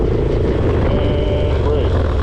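Harley-Davidson Dyna motorcycle engine revving hard as the bike is pulled up into a wheelie, a loud continuous low roar that stays steady throughout, with wind noise and a voice faintly under it.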